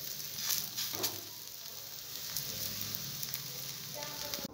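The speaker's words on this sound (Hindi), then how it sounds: "तवे पे थोड़ा सा घी लगाएंगे घी लगाने के बाद अपन इसको सेक लेते हैं" A radish paratha roasts in ghee on a hot tawa, giving a quiet, steady sizzle with a faint scrape at the start and a small clatter at the very end.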